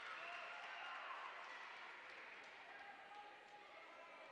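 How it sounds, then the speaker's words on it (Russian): A local crowd at a freestyle wrestling match applauds steadily, a dense, continuous wash of clapping from a large audience that holds at an even level throughout with no voices rising above it. "И сразу аплодисменты срывает местной публике."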